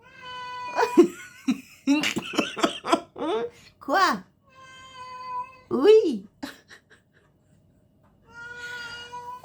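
A house cat meows a few times at close range in a home, its short cries mixed with speech, a cough and other voices, followed by quieter background noise.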